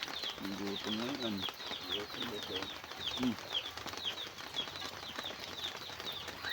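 Birds chirp and coo close by with some flapping wings over a noisy background, and faint voices murmur in the distance.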